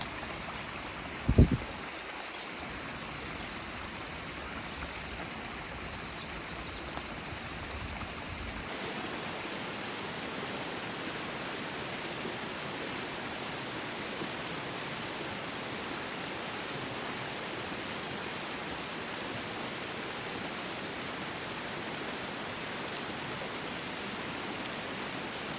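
Steady rushing water of a waterfall at Yabba Falls, a constant broadband roar with a faint hiss of wind, after a brief thump near the start, with no talking.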